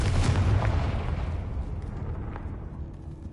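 A Confringo fire spell bursts in the video game Hogwarts Legacy, a loud booming explosion that rolls out and fades over a few seconds.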